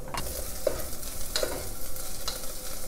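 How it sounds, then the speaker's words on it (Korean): A large onion stir-fried in a pan for a vegan Korean-style curry, giving a steady sizzle with occasional scraping stirs of a utensil across the pan. "양파 큰 거 하나 지금 볶고 있고요"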